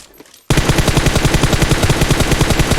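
Loud, rapid automatic gunfire in the mobile shooter game PUBG Mobile on the Erangel map bursts in after a quiet half second, then continues as a steady, evenly spaced rattle of shots to the end.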